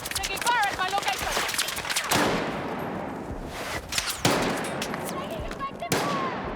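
Gunfire in the video game Battlefield Redsec crackles in rapid bursts and single shots, near and loud, while voices shout over the shooting.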